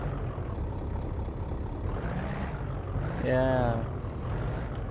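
A car engine in the video game My Garage cranking and catching, a low rumbling idle that swells into a rising rev, heard under a brief spoken word.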